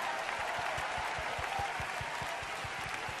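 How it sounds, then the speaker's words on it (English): A church audience claps together in a fairly regular rhythm of distinct beats over a wash of wider applause at an Easter production, moderately loud and steady throughout. "let's give them all a big clap"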